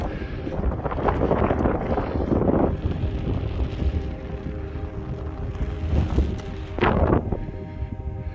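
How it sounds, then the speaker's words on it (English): Strong wind blows across a mountain summit near Tyndrum in Scotland, buffeting the microphone in loud, rumbling gusts that swell and ease over several seconds, with no one speaking. "A little bit breezier up here. Wind's coming from the south."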